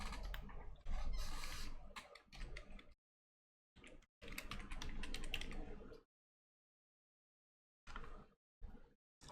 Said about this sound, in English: Rather than leaning over to my laptop to type, let's get me a proper keyboard out